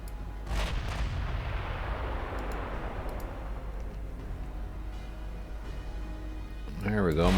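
Sixteen-inch naval guns firing in the Ultimate Admiral Dreadnoughts video game: a heavy boom opens a long rolling rumble of artillery that fades slowly, with another sharp blast near the end, under someone talking.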